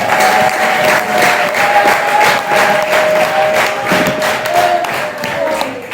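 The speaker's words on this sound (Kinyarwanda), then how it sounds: "Nawe tukamukomera amashyi menshi cyane mu mwami." A church congregation applauds in a steady, dense burst of clapping that keeps going without a break, loud and close, with some crowd noise mixed in.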